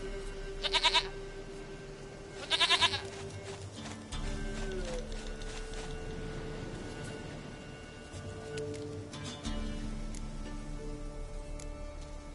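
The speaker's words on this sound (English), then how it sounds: "Goat of mine, dearest, sweetest goat." Two short quavering goat bleats from The Witcher 3 ring out early, over steady ambient game sound with a low drone and faint rain-like hiss continuing throughout.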